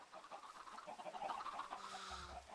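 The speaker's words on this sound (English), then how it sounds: "This is his, like, crazy chicken coop setup" Chickens cluck and chatter in a chicken coop within the video game Modern Industrialization, a busy overlapping flock of short clucks that swell toward the middle, with a faint low hum underneath.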